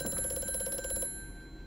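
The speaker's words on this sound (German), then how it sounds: "ein Telefon. Es klingt." In-game telephone in the horror game Amnesia: A Machine for Pigs rings with a rapid, steady metallic bell trill for about a second, then cuts off, leaving low background hum.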